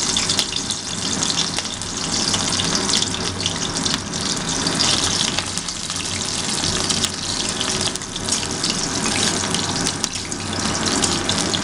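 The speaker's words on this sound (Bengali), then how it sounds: "এবারে আমরা ক্যাপসিকাম, গরম তেলে ক্যাপসিকামটা দিয়ে দিলাম।" Capsicum sizzles in hot mustard oil in a pan, a steady, dense crackling hiss that stays loud and even throughout with no speech.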